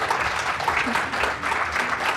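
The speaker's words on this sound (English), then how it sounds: "Give these guys a round of applause, please." A conference audience at a BrightonSEO US panel on SEO in San Diego claps for the panelists, giving steady, dense applause throughout.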